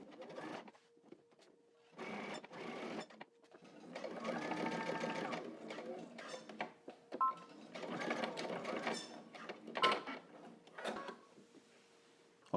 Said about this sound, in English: Now I'm going to back stitch at the beginning and also at the end.